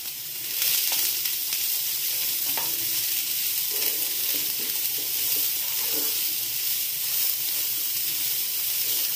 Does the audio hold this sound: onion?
yes